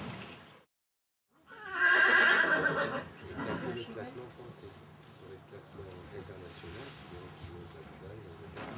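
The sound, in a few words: horse neighing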